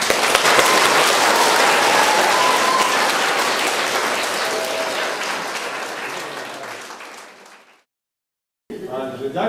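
An audience at a school talk and concert in Gbelce claps to welcome writer Ľubomír Feldek. The applause is loud and dense, then fades to silence before a brief, different sound starts.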